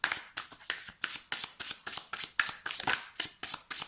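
Tarot cards being shuffled by hand in a steady run of crisp, riffling flutters, about a dozen quick bursts in close succession, near and fairly loud with no talking.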